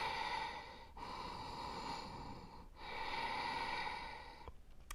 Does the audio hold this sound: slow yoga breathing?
yes